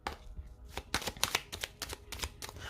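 Tarot cards are drawn and laid down in a quick run of crisp, close flicks and soft slaps, about a dozen sharp little snaps in an irregular rhythm, with no talking.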